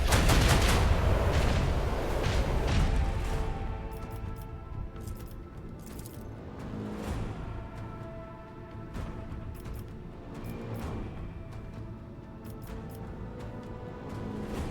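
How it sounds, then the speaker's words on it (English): Lance batteries firing in the Warhammer 40K Rogue Trader video game: a heavy opening barrage of rumbling blasts, followed by repeated sharp energy discharges and booms over a sustained droning background, fading somewhat after the first few seconds. "Fire the lance batteries. Fire right now."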